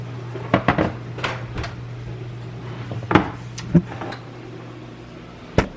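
A donut pan slides into a preheated home oven amid several sharp metallic clanks and knocks of rack and door, scattered irregularly over a low steady background hum.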